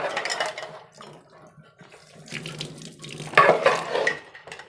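Water pours and splashes into a mixer jar to rinse it, a running, sloshing stream that swells louder near the end, with no talking.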